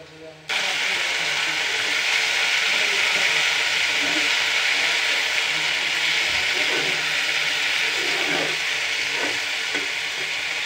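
Water spinach hits a hot pan with browned onion and bursts into a loud, continuous sizzle and hiss after a brief quiet start, with occasional stirring clinks close by.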